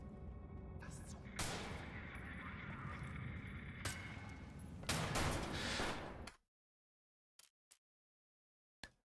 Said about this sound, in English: I can literally just shoot him with a silenced pistol